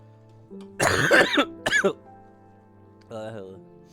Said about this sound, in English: Apologies for coughing ahead of time.